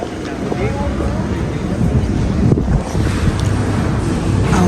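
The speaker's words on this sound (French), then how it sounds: "Il y a le vent." Strong wind gusts buffet the microphone outdoors on a bright, sunny day, a steady broadband roar with surges, loud and close throughout, with no talking.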